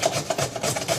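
Cucumber rubbed quickly against a blunt, well-worn box grater, a close rhythmic rasping of several short strokes in about a second.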